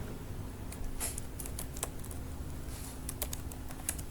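Steady typing on a computer keyboard while entering a command, with quick irregular key clicks spread across four seconds at close range and fairly quiet, with no talking.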